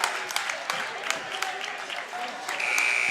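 Basketball fans and players clap together in a high school gym before a boys' game, a dense continuous patter of applause with scattered sharper claps, swelling slightly toward the end while voices mix in.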